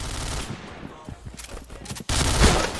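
Rapid bursts of automatic gunfire from the shooter game Point Blank on the old Luxville map, loud and close, with a player's voice talking over the shots.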